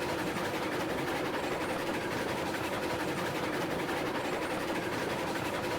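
Train running in the video game Railroads Online, a dense, steady rumbling rail roar with continuous rolling noise and no clear pauses, loud and alone without talk.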